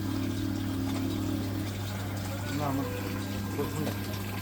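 A coin-operated drinking water vending machine fills a bottle, its pump humming steadily with a running water stream, while people talk close by throughout.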